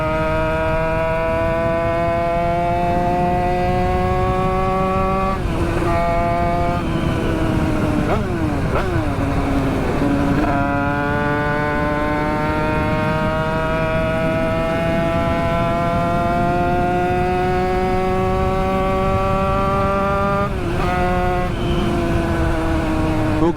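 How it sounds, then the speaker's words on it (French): A Toyota GT86 engine accelerates steadily through the gears, heard from inside the car on the road as a continuous, fairly loud drone that climbs in pitch, with brief dips at each shift. "Donc les gars, le 86 il pousse quand même pas mal."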